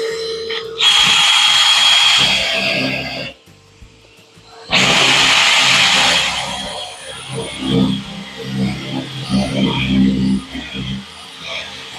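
A power drill whirs loudly in two bursts with a short pause between, drilling wood for Shaker style cabinet doors, then quieter tool handling and rustling follow.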